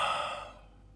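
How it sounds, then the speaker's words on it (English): A single breath blown onto a temperature and humidity sensor on an Arduino setup: a soft, airy exhale that starts strong and fades out within a second. "Let's breathe on the sensor."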